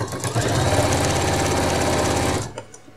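A sewing machine stitches fabric for a retro-style apron along the bust edge, running in a steady, loud, continuous whir for about two and a half seconds before stopping abruptly, followed by a faint clatter.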